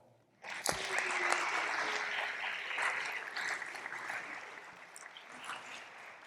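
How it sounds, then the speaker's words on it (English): Audience applause at an award ceremony, starting abruptly and holding as steady, moderately distant clapping from a sizable crowd, tapering slightly toward the end. "let's give a round of applause for you all"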